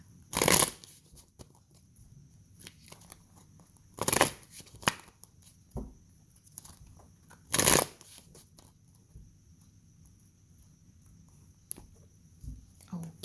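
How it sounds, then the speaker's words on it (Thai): Tarot cards being shuffled by hand at close range: three loud bursts of riffling near the start, the middle and the end, with softer scattered card taps and rustles in between, and no talk. "เราก็จะมาเลือกไพ่ให้ชาวราศีธนู 10 ใบนะคะ"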